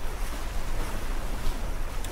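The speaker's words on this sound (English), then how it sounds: "The ocean is calm." Steady wash of calm ocean water and wind rushing past a sailboat in the Sailaway sailing simulator, continuous broadband noise with no talk.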